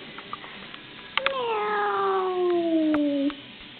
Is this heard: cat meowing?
yes